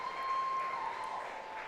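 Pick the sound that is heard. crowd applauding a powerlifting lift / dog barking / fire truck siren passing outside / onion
crowd applauding a powerlifting lift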